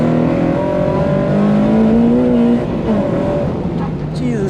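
From inside a car driven hard on a race track during a track day, the engine revs rise and fall in gliding tones, with faint tire squeal as grip is lost. The engine is loud and close.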